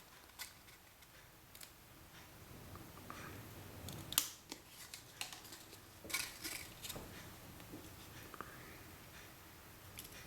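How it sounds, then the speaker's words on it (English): Scissors cut a paper band into a butterfly contour during a journal craft project, producing quiet scattered snips and clicks, with a few sharper cuts standing out against a faint background. "I'm going to slide the band off and just cut that to contour"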